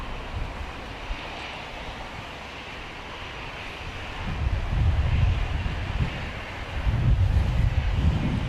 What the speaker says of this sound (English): Big gust coming through right now.